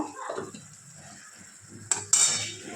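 A utensil stirs coriander-cumin powder into ginger-garlic paste in a pan, with soft scraping and clinks over a low sizzle that grow louder near the end.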